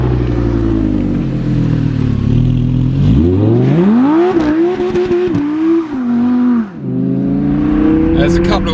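An Audi R8 RWS with a V10 engine and sports exhaust revs hard, climbing and falling in pitch through several loud, close blips with a brief dip, while someone talks over it.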